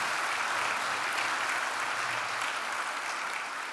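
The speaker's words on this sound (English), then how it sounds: "A round of applause for Michael." An awards ceremony audience gives steady applause for an honoree, a brief, even wash of many hands clapping at a moderate distance with no talk over it.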